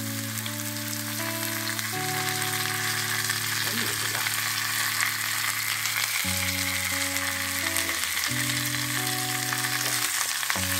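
Steady sizzling of salted mustard paste frying with bitter gourd in a pan, with a continuous hiss throughout; a brief voice speaks and a steady tonal hum sits underneath.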